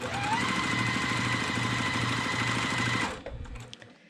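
A sewing machine runs steadily, stitching quilt block pieces with a fast, even mechanical chatter and hum for about three seconds before stopping abruptly, leaving a few faint handling clicks.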